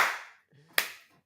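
A single sharp, close hand clap rings out after a brief whooshing lead-in, a crisp isolated smack that fades quickly into quiet.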